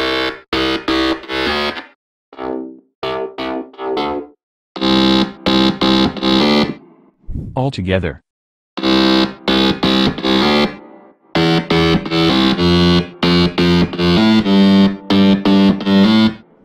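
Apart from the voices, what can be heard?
electronic drop bass synth layers made in FL Studio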